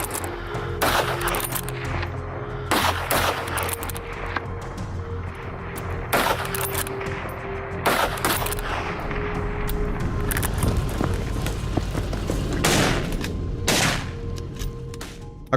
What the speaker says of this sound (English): The gunshot shattered the silence,